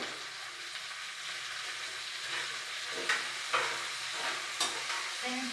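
Okra frying uncovered in a pan with turmeric and salt, a steady soft sizzle broken by a few sharp scraping stirs of a spatula against the pan.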